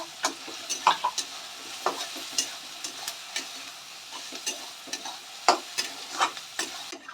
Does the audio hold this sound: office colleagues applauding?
no